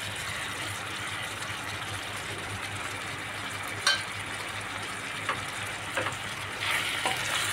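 Dry spices fry in a pan of chicken curry with a soft, continuous sizzle and hiss, with a few light stirring taps near the end, heard close and without talk.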